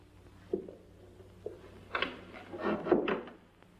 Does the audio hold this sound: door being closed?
yes